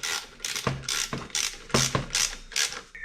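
A ratchet clicks rapidly in short bursts while tightening bolts on the power steering pump bracket of a Ford Falcon, five or six close, crisp clicking runs with brief pauses, no talking.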